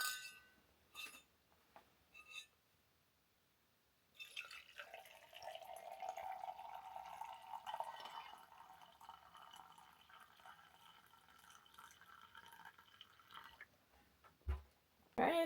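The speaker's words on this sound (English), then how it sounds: "Just gonna pour some hot water, let it steep, and then I'll add some honey later" Hot water poured over ginger and hibiscus in a glass to steep: faint clinks of glass at first, then a soft, steady trickling fill for several seconds, ending in a few light knocks.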